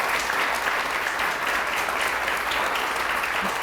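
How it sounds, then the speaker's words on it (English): A museum audience at an artist conversation event gives sustained, even applause, a dense wash of clapping that holds at steady loudness with no voices over it. "Please give a round of applause for Gisela if they draw it."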